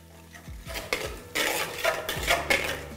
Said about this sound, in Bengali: এরপর ফ্লেমটাকে লো রেখে এটাকে আপনাদের ভালো করে একবার মিশিয়ে নিতে হবে